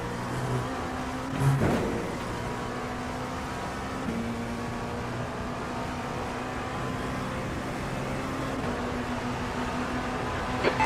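Race car engine in a multi-class IMSA-style sim racing game at Daytona, a steady sustained drone at constant revs with a brief rise near the start, holding evenly throughout with no talk.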